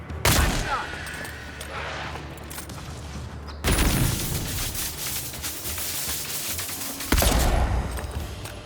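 Gunshots in the fantasy game Avowed as a shadow is fired upon, three sharp loud blasts spaced a few seconds apart, each followed by a rumbling tail.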